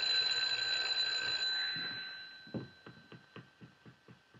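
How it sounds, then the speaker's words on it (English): An old-fashioned mechanical bell rings steadily at first, then fades into a run of regular clanging strikes that gradually soften. "why don't you ring the bell?"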